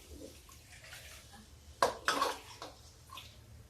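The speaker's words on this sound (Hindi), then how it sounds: "पानी डाल दिया, क्योंकि कढ़ी को पकना भी है इसलिए।" Water is poured into buttermilk in a cooking pot while making kadhi: a brief, close splashing gush with a few clinks against the pot, over a quiet room.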